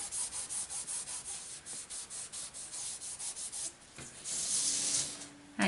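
Dry rubbing over craft card before embossing powder goes on, a soft rhythmic brushing swish repeated in quick even strokes, close and quiet, with no talk.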